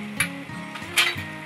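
Spices are mixed into besan onion sabzi in a frying pan, a few close clinks and scrapes of a spoon against the metal with a faint sizzle underneath.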